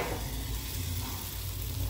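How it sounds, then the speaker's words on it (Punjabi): Butter tadka with potatoes sizzles in a kadhai, a dense, even hiss of hot fat holding steady and close with a faint underlying rumble. "ਤੜਕਾ ਆਪਣਾ ਲੱਗ ਰਿਹਾ"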